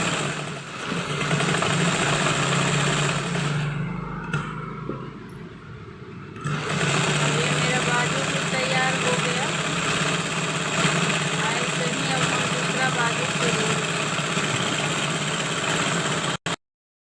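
An electric sewing machine stitches the sleeve of a kurti, a steady close mechanical whirr that runs almost the whole time, pausing briefly in the middle before starting up again.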